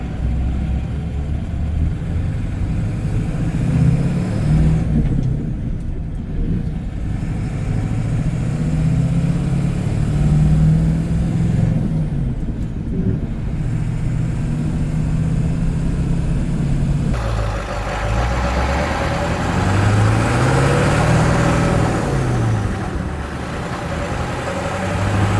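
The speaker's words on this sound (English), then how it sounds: "You just let the clutch out. You hear a little change of tone in the motor, but the tach never even really drops." A Ford Super Duty OBS Powerstroke diesel engine runs continuously and close as the clutch is let out, a steady low rumble with slight shifts in tone and no drop in revs.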